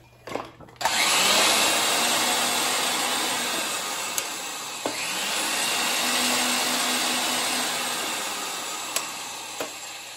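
Pipe threading machine running steadily while a die set to 1¼ inches cuts threads on pipe for a hydraulic separator install, a continuous loud whirring drone with a couple of brief clicks, no talk.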